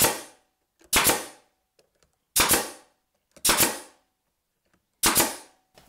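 Nail gun firing into the bottom boards of a wooden structure, four loud sharp pneumatic bangs with quiet gaps between them and faint handling clicks.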